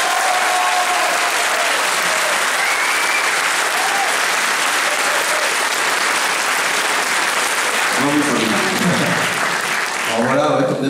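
Loud, sustained audience applause at a fan convention conference for the director of a web series, filling the hall with dense clapping and crowd noise before a voice begins speaking near the end.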